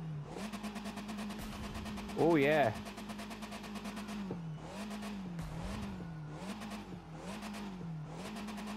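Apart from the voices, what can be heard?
Fiat 500 Abarth engine revving in video game The Crew 2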